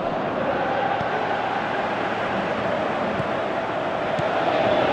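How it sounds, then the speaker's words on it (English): Football stadium crowd at a Scotland vs Germany European qualifier, a steady broad roar of thousands reacting to play, continuous and dense with a faint murmur of voices throughout. "Crowd appreciates good football all round there."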